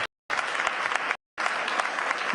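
Audience applause at a Davos panel, two loud bursts of steady clapping from a crowd, each stopping abruptly after a brief silence.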